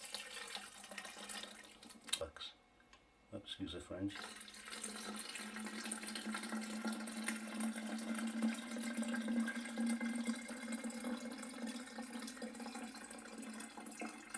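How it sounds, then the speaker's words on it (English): Water running steadily from a tap into a kettle, a continuous splashing rush that rises slightly in pitch as the vessel fills, heard close after a brief pause, with a person speaking briefly at the start. "I fill this kettle right up."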